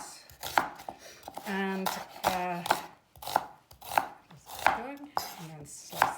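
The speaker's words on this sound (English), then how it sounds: "then I'm going to slice with the lines on the onions, and slice like so" A knife slices onions on a cutting board in a series of crisp, close taps spaced about half a second apart, with a person talking over the cutting.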